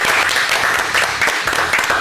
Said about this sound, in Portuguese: bota palmas.